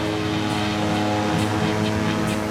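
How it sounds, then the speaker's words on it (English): A 6-foot diameter fan blade driven by a 350 horsepower big block engine, built to push wind up to 95 miles per hour, drones loud and close with a steady engine roar and a pulsing propeller-like beat. "This is a 6-foot diameter fan blade connected to a 350 horsepower big block engine."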